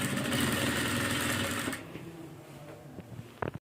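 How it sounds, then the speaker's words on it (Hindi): A sewing machine stitches the heavy ruffles of a prom dress, running in a dense, steady whir for under two seconds before stopping, followed by faint handling clicks and a couple of soft knocks at the end. "उन निशान के ऊपर रख के ऐसे सिलाई लगाते जाना है"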